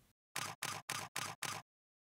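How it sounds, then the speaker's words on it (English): Five quick, evenly spaced camera shutter clicks in a row, a bracketed exposure set fired by remote release, crisp and close, with silence before and after. "take the bracketed set by pressing the remote shutter release"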